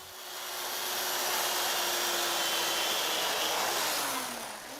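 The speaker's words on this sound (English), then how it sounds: "He uses a chainsaw and various chisels to carve ice into spectacular sculpture." A chainsaw cutting into ice, a loud continuous high whine with harsh grinding that rises and eases, close by.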